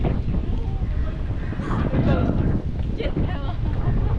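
Dry wind blows hard across a beach on the Sri Lankan coast in the low season, buffeting the microphone with a constant rumbling roar, and a voice talks faintly underneath.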